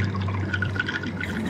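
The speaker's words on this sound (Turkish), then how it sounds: "Mazot aldık, mazotu koyduk, çalıştırdık arkadaşlar." Diesel fuel poured into a tank in a video game, a steady liquid gush with gurgles and small splashes over a low hum, close and moderately loud, running the whole time without pause.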